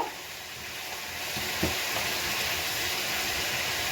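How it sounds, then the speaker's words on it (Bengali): Potatoes fry with salt and turmeric in a pan, giving a steady, close, continuous sizzle with faint stirring clicks and no voices. "ওইভাবে আলু ভেজে নেবো প্রথমে"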